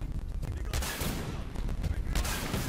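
Rapid bursts of gunfire crackle over a dense, noisy game soundscape, shots coming in quick succession.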